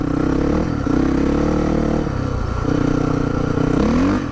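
A motorcycle on a snowy forest track revs hard as its worn rear tyre spins, loud engine whine rising and falling in repeated throttle bursts with clattering and scraping, close to the microphone.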